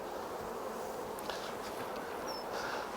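Honey bees buzzing around a hive during an inspection in an apiary, giving a steady, fairly faint drone with a few closer individual bees passing by.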